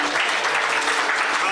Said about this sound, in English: Let's give God a clap offering this morning.